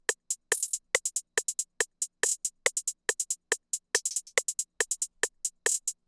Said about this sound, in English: So this is what my hi-hats are going to sound like.